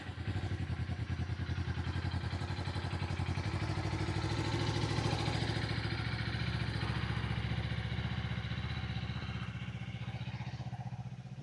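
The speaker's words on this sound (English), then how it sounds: "it is kind of fun to hear the exhaust note" A 2026 Kawasaki Ninja 500 ABS motorcycle idles steadily with a low, even exhaust burble and light mechanical clatter, fairly faint and with no talk over it.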